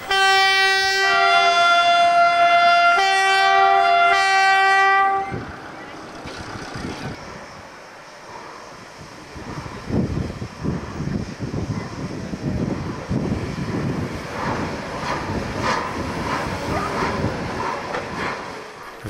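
A train horn sounds a long, steady multi-tone blast, then a heavy rumble and rhythmic chugging build as a 231G Pacific steam locomotive pulls away.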